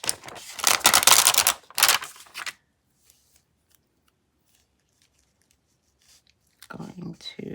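Scissors cut paper during a craft session, with crisp, close snipping for a couple of seconds, then near silence, then a voice speaking at the end.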